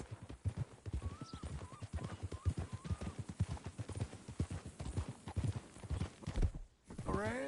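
Horse hooves clip-clop steadily at a walking pace in Red Dead Redemption 2, a continuous rhythmic patter of many hoofbeats under game ambience, with a whinny rising near the end.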